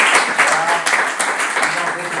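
An audience applauds at a provincial quiz competition semifinal, a brief burst of dense clapping up close, with talk overlapping.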